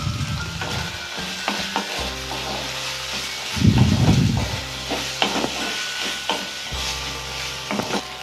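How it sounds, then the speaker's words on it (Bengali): Chopped tomato stir-fried in a pan for paneer butter masala: a loud, dense sizzle continues with repeated scraping and knocking stirring strokes, and no voice. "এরপর আমরা দেবো এর মধ্যে টমেটো কুচি দিয়ে আবার আমরা ভালো করে এটাকে কষিয়ে রান্না করে নেব"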